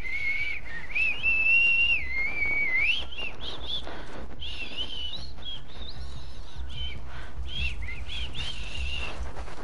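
Whistled melody in The Last of Us, a wavering tone that rises and falls in short phrases over about ten seconds, loud and close over low game ambience, with no talking.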